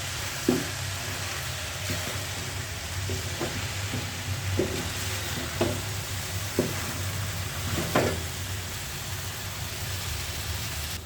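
Potato and spiny gourd curry fries in a pan with magic masala and salt, a steady close sizzle broken by periodic clinks and scrapes of stirring.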